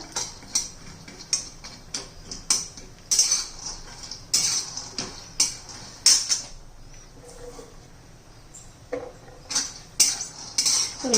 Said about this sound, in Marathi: खोबरं पण घालायचे आपण तेल न घालता दोन्ही मस्त असं खरपूस भाजून घेऊया